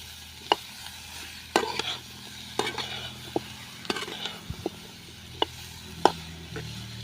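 Amla gooseberries stirred in a pan for pickle, with sparse spatula scrapes and clicks over a low sizzle, the strokes irregular and close by.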